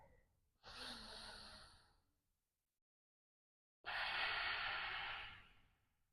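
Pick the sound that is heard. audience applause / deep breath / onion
deep breath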